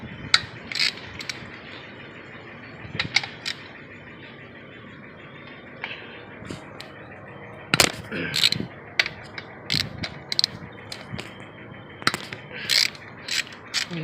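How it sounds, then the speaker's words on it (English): A ratchet breaks loose the fuel injector bolts on a 2008 Hyundai Tiburon GT V6 engine, with scattered bursts of clicking pawl ticks and metallic creaks between quieter gaps, up close. "I'm gonna go ahead and break the bolts to the injectors loose."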